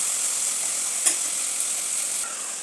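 Cucumber pieces stirred in hot oil in a pan, a steady hissing sizzle with one brief clink from the stirring.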